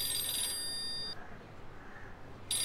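A telephone rings with a high electronic trill in two bursts separated by a pause, fairly loud over a quiet room.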